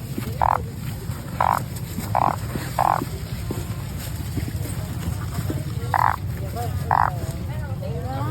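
Narrow-mouthed toads croak at a Lao morning market, giving short, loud, evenly spaced calls about once a second over a low rumble of market background, with a pause midway before two more calls.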